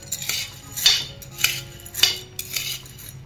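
A spoon scrapes and clatters against a pan while chana dal is dry-roasted and stirred constantly for chakli flour, giving about five distinct metallic strokes in a steady rhythm, close by and with no talking.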